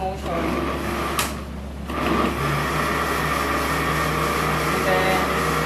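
Kitchen blender or grinder motor run in short pulses, whirring loudly and continuously with a brief break and restart, close and steady throughout.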